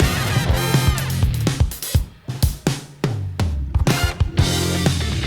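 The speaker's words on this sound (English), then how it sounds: "he's filling in the gaps with all this hi-hat work and the extra snare accents, the little hi-hat barks and that kind of stuff" A drum fill packed with hi-hat work, little hi-hat barks and extra snare accents, a busy, loud run of strikes with short pauses, heard alone.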